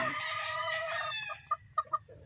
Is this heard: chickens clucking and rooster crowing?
yes